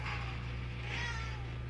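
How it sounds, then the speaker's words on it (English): A pet cat named Oliver meows near a woodworking bench, a drawn-out nasal cry rising and falling over a steady low electrical hum from a shop machine. "That's my silly cat."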